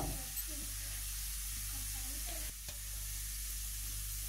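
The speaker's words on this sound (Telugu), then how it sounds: "అల్లం ఈ పోపులు అన్నీ బాగా వేగేంత వరకు వేపుకోవాలి" Ginger and tempering spices fry in a little oil for curd rice, giving a soft, steady sizzle and hiss over a low electrical hum, with a short pause where the pan is stirred.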